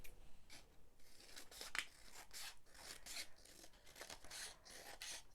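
Scissors snip through paper while a handbag gift bag is trimmed at a craft workshop, a string of close, dry rasping cuts in quick succession with no talk.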